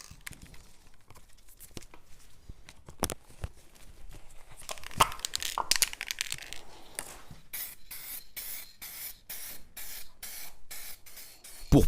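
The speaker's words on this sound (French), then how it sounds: "Je vais à présent pulvériser le bloc avec la peinture résistant à la chaleur." Heat-resistant paint sprayed from an aerosol can onto a café racer motorcycle engine block, starting with scattered short hisses and rattles, then a regular run of sharp, loud bursts of spray near the end, with no speech.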